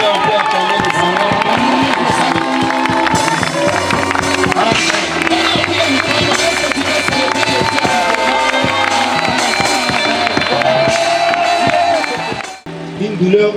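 A church congregation cheers and acclaims the Lord, a loud, sustained crowd roar blended with steady keyboard music and singing, cutting off abruptly near the end.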